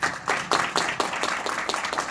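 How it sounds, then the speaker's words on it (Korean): An audience at a shareholders' meeting claps in a brisk, rhythmic burst, a moderately loud patter of hands with regular pulses lasting a couple of seconds. "박수 한번 부탁합니다."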